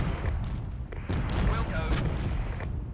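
Hostile gunfire in the Regiments war game: a steady barrage of booming, thudding shots and distant artillery-like blasts rolling continuously with no pause, loud and dense throughout.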